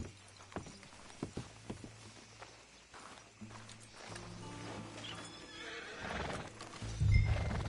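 Horse hooves in Red Dead Redemption 2: scattered clip-clop steps on the ground, then a horse whinnies and snorts while the hoofbeats pick up into a steadier riding rhythm, close and clear.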